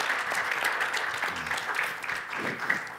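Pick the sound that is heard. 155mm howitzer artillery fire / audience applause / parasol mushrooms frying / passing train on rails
audience applause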